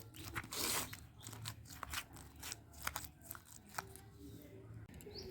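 Roasted eggplant mash with chopped coriander, a charred tomato, green chili, oil and salt is mixed by hand, giving soft, quiet squelching and crackly squishes in an irregular rhythm, close by.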